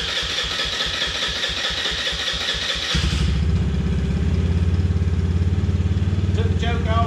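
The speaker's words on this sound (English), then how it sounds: "Took the choke off, fired right off. Now we're running." An Eaton Viper 70 small engine rattles as it cranks, fires up and settles into a loud, steady running drone nearby, after a fix for not running.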